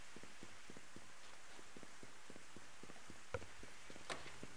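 Steady rain in Rune Factory Frontier, a dense, even hiss of falling drops with soft repeated patters, heard alone at low level, with a couple of brief sharper taps near the end.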